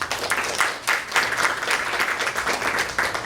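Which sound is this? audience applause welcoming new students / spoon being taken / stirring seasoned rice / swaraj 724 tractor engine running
audience applause welcoming new students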